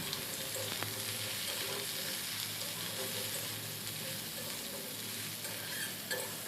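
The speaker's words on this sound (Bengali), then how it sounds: "সবজিটা আমি তিন থেকে চার মিনিট ভেজে নেব" Chopped vegetables sizzle and crackle in a hot pan with fried onion, a steady close hiss with an occasional scrape of stirring.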